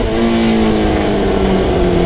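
A Honda CBR motorcycle engine runs loud and close with a steady, sustained droning tone throughout, holding its pitch without a sharp rev spike.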